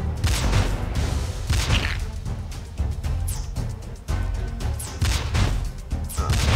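Cannon towers fire repeatedly in the tower-defense game Prime World: Defenders 2, a dense, loud run of overlapping booms and impacts with layered game effects and music, steady throughout.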